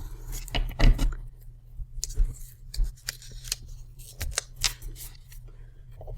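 Scissors trim a planner sticker up close: a quick series of crisp snips and paper rustles in an uneven rhythm, quiet and without any talking.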